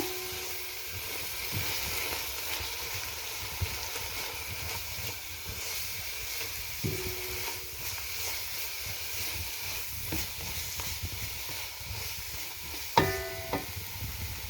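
Spices being mixed and fried in a pan for tomato rice give a low, soft sizzle and hiss under occasional scraping stirs, with a sharp metallic clink near the end.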